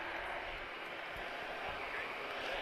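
A first-generation Airbus A320 with CFM56 engines at Madeira Airport, heard as a steady, broadband jet roar that fills the whole short stretch without pause.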